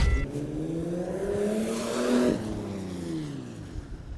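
A Porsche Panamera Turbo with a 500 hp engine revs up and eases back, a steady mid-pitched engine note rising to a peak around midway, fairly close and with no talk over it.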